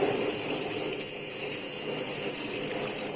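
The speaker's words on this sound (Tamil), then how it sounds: "தண்ணி சேர்த்துக்கலாம்" Steady stream of water being poured into a simmering Punjabi chicken gravy, a continuous broadband wash with no speech.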